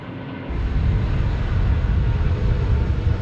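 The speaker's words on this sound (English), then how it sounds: "Qantas 652, wind 190 degrees, 15 knots, runway 16 right, clear to land" A Qantas airliner landing at Sydney Airport, runway 16 right, gives a loud, steady broadband engine roar that swells up after a short quieter start and holds on through the rest of the clip.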